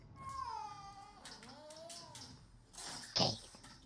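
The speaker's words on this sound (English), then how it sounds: "The cat hisses and swipes at him" A cat faces a dog with drawn-out, wavering yowls, then gives one sharp, loud hissing burst near the end.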